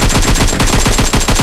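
Loud, close automatic gunfire in PUBG Mobile, a steady rapid burst of shots in even rhythm for the whole moment with no pause.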